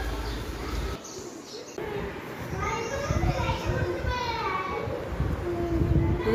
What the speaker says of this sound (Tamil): இங்கே வந்து நிறைய சிட்டுக்குருவி இருக்கும், பயங்கர சவுண்டு கொடுக்கும்